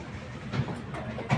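A Howrah–Balurghat Express train rolling out of the station, with a steady rumble and two soft rhythmic clatters of the wheels over rail joints, heard from inside the carriage.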